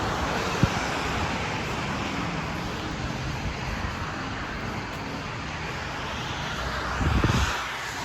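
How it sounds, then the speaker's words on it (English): Constant broadband roar of road traffic heard outdoors over a parking lot near MetLife Stadium, with a brief thump early and a swell of passing vehicle noise near the end. "You've got a lot of noise, road noise from the cars."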